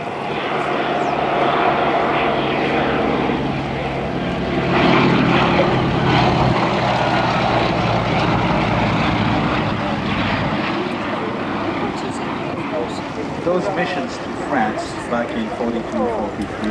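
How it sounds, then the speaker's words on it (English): Two Mercury-engined aircraft, a Gloster Gladiator and a Westland Lysander, fly past in formation at a Duxford air display, their steady propeller drone loud and sustained, rising slightly mid-pass, with voices talking over it. "let's enjoy the two Mercury-engined aircraft in beautiful Shuttleworth formation as they come by"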